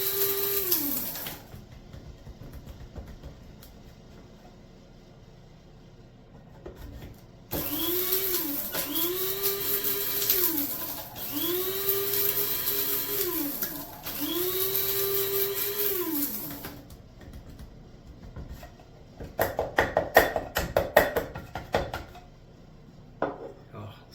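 An inexpensive electric coffee grinder grinding dried herbs such as cilantro, running in four loud whirring bursts that rise and fall in pitch, with pauses between, then rattling and tapping of the grinder afterward.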